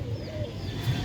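Pigeons coo softly in low, repeated murmurs at Karachi zoo, a steady close flock sound with faint background ambience and no clear talk.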